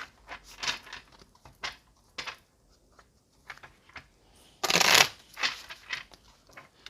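Tarot cards shuffled close up in short soft riffles and taps, with one louder crisp burst midway, quiet gaps between, no talking.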